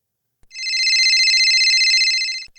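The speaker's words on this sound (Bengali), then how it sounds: "যে বড় ভাই ফোন আইছিল।" A telephone rings once in a single sustained electronic trill lasting about two seconds, clear and close against silence, in a comedy drama scene.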